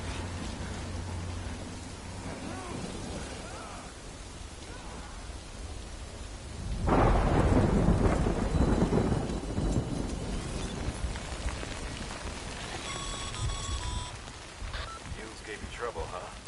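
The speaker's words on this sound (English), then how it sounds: "Good thing it was raining." Thunderstorm with rain in the video game Death Stranding: steady rainfall, then a deep rolling thunder burst that swells and slowly fades, with faint game tones and voices in the mix.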